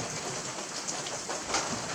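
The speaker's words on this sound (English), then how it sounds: "It has been raining since 1st April, so that's 4 days of rain, and it has been flooding the rice field." Steady rain falls on a flooded rice field in Roxas, Isabela, in the early morning after four days of downpour, a dense, even hiss with no voices.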